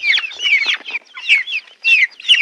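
A chicken clucks repeatedly in quick, choppy bursts, close and clear against a silent background, with short pauses between phrases.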